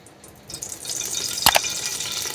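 Sesame oil poured into a pressure cooker gives a soft, close liquid hiss with a brief splashing burst midway, no voices.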